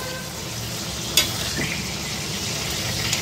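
Stuffed pointed gourds fry in hot oil with a steady, even sizzle throughout, broken once by a brief utensil clink near the pan.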